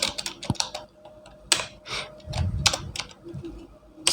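Computer keyboard typing while entering a sales invoice in Tally accounting software: close, irregular clusters of key clicks and sharper taps, with a few pauses between bursts.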